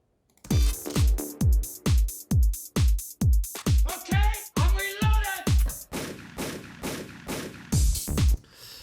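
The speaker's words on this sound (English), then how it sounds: "downloaded a YouTube video of 3 gunshots." Rapid series of sharp gunshot bursts layered in a hip-hop music track, with a metallic weapon reloading clatter mixed in the middle, punchy, close and loud throughout.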